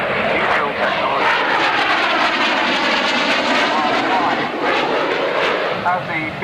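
Harrier GR7 jet flying past, a loud rushing engine roar with shifting, sweeping tones as it passes, heard under continuous talk.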